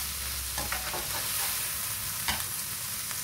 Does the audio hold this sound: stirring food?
yes